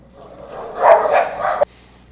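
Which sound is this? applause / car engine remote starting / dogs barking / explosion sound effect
dogs barking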